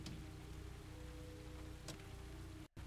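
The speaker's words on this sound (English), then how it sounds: "It's so rainy out" Rain falls steadily in the video game Arma Reforger, a faint, even hiss with a couple of brief louder taps and a short drop-out near the end.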